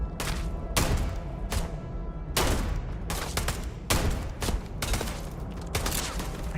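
Rapid bursts of gunfire in the video game Starfield, loud dense volleys repeating every second or so, with no talk over them.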